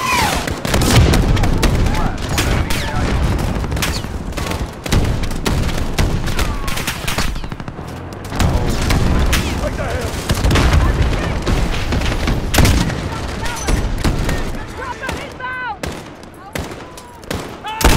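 Dense gunfire and heavy booms from a Call of Duty campaign finale, with sustained bursts, rattling automatic fire and repeated explosive thuds, loud and continuous for the whole stretch, with voices speaking underneath.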